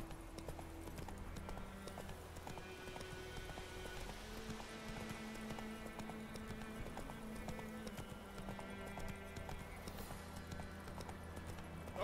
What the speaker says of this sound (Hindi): ये रहा उसका घोड़ा